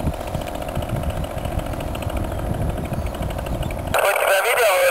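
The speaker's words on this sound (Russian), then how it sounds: "А вот что-то сейчас сильные помехи от мотора слышу." A model aircraft motor runs steadily and loudly through the whole stretch, with a buzzing, raspy tone that turns harsher and brighter near the end, heard outdoors at an evening flying session.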